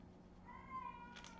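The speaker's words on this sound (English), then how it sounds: "Yeah, it's a she. She's an older cat," An older female cat gives one soft, faint meow, short and close in a quiet room with no talk.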